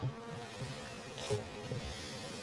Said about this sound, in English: These bees are in this box that I just shook out